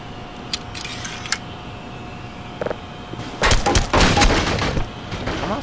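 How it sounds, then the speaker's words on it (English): Metallic clicks and clacks of a weapon being reloaded in Black Mesa, a few light mechanical clicks followed by a louder, busier rattle of handling near the end, close and without talk. "Gonna reload."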